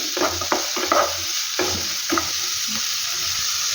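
Beans and carrots with salt fry in a pan with a bright, steady sizzle, punctuated by a few sharp spatula scrapes early on before settling into even hissing.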